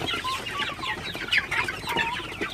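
Many Sonali chickens in a poultry shed on a very hot day cluck and chatter continuously, overlapping calls close at hand forming a busy flock murmur.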